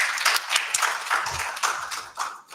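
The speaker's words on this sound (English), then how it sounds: "And I would also like all of you to join me in giving a round of applause to Dr. Usman." Brief applause at a virtual book launch for a title on public value and post-pandemic society, a short patter of clapping lasting under three seconds with uneven bursts and a few sharper claps.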